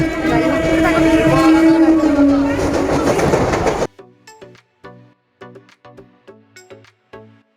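Loud rumbling and whining of a moving train for a few seconds, then it cuts to quieter, separate clicking and tapping sounds.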